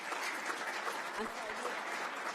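Faint, steady applause from a crowd at a town board meeting, a continuous patter of clapping heard from a distance.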